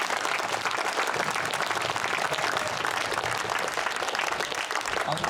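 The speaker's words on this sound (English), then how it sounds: "a round of applause for the East Anglian Railway Museum" A crowd claps loudly and continuously for the East Anglian Railway Museum at an anniversary event marking 175 years of Chappel railways, a dense, even roar of hands filling the whole stretch without speech.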